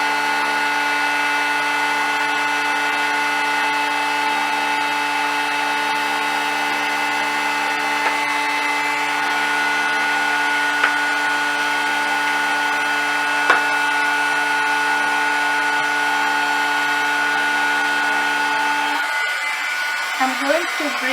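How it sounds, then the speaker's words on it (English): A handheld embossing heat tool runs with a loud, steady whirring blow that holds for about nineteen seconds, then cuts off abruptly, leaving a few faint handling clicks. "I'm going to start heating my heat gun or heat tool, and you'll see that noise there"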